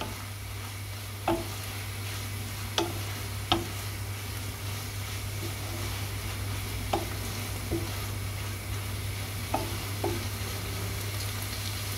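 Chicken fries in a pan with a steady sizzle and a low constant hum, while occasional sharp scrapes and taps of stirring land every second or two, close and alone with no talk.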